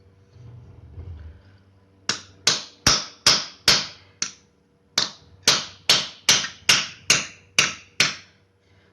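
A hammer drives a chisel between a steel mounting plate and a transformer from an industrial high bay light, striking in a run of sharp, ringing metallic blows at a steady rhythm, close and loud, with a short pause midway.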